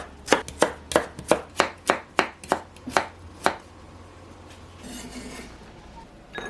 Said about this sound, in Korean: 양배추 가운데 부분은 작은 크기로 썰어줄게요.